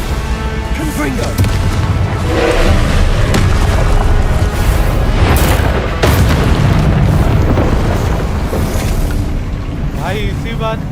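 Confringo fire spell blasting in the Hogwarts Legacy video game, loud booming explosive rumble sustained across the clip with heavy low-end, a voice talking over it.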